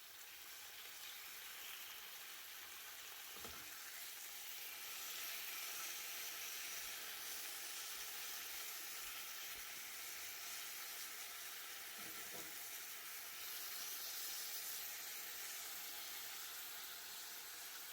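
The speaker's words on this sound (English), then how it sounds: "I place all slices of bacon into my cast iron skillet, I'm going to turn on the heat" Bacon slices frying in a cast iron skillet give a faint, steady sizzle and hiss, swelling slightly partway through, with a couple of soft knocks from the pan.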